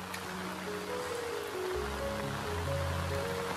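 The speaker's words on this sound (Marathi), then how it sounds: "बघा, पाणी जातंय व्यवस्थितपणे" Water rushes and gurgles steadily nearby, flowing through a monsoon rice field, a continuous flow with a faint low hum running underneath.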